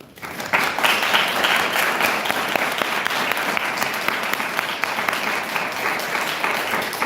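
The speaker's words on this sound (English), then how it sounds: "Let's give them another round of applause." A conference audience applauds after a presentation, steady dense clapping that starts abruptly and holds at full strength throughout.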